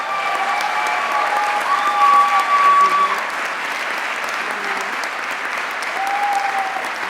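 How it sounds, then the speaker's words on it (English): An audience at a 2018 college honors convocation claps steadily in a dense, sustained round of applause, loud and even throughout with a slight swell midway. "you guys gave him a very heartfelt applause"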